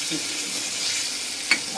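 Potato and eggplant curry tempered in hot oil with garlic, turmeric and salt, stirred in the pan: a steady, close frying hiss runs throughout, broken by one sharp spoon click near the end, with no voices.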